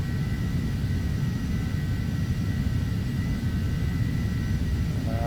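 A Bombardier airliner passes in the Flight Simulator X game, heard as a steady, loud, broadband jet roar with a low rumble and a faint whine holding evenly throughout.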